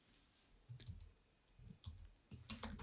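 Typing on a computer keyboard while entering a plugin search in WordPress, heard as three short bursts of quick clicking keystrokes, fairly close and moderately quiet, with no talk.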